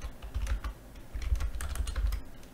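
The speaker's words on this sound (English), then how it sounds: "I'm not typing well" Fast typing on a computer keyboard during a Lisp programming session: a quick, uneven run of close clicks and thuds, pausing briefly near the middle before resuming, with no talk.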